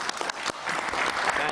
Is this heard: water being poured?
no